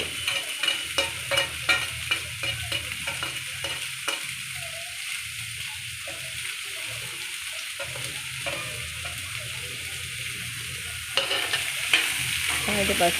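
Carrot and beetroot being stir-fried in a pan on low heat give a continuous close sizzle, broken by repeated rhythmic scraping and stirring strokes, with a louder burst of frying near the end.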